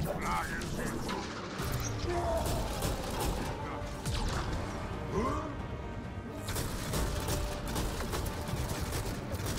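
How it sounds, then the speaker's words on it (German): Gunfire bursts and crashing impacts from combat in the video game Mass Effect Andromeda, playing in rapid volleys at a steady moderate level under a player talking over the action. "Da war irgendwo ein Schuss."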